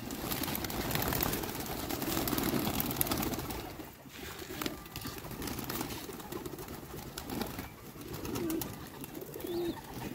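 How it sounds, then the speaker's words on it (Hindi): Pigeons coo softly, low throaty calls repeating under a steady wash of background noise, with no talking. "क्या बेहतरीन है अल्ताफ़ भाई की, बेहतरीन कबूतर है।"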